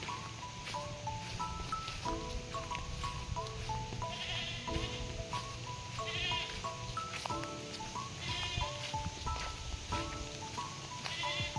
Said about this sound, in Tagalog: may mga kambing nga po na nakaalpas dito